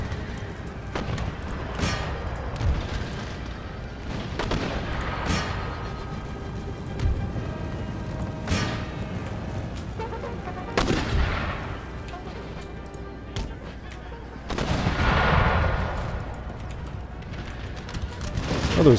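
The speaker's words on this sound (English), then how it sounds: "Oh, those mortar shots." Mortar fire on an Empire: Total War battlefield, with repeated booming impacts at irregular intervals over a steady rumble of battle noise, one longer blast swelling near the end.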